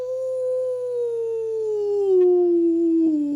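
A human voice imitates a dog's howl: one long, close, sustained tone that slowly slides downward in pitch, heard alone.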